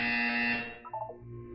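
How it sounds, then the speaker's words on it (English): A loud, harsh electronic buzzer from the video game Portal 2 sounds once, holding for about half a second before cutting off, followed by faint lower tones. "You will hear a buzzer."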